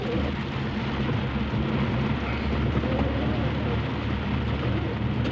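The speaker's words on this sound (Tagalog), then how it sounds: "bumabagsak na yung ulan guys. Sabay malakas na hangin." Heavy rain roars steadily with strong gusting wind, a dense, loud wash of noise that never lets up.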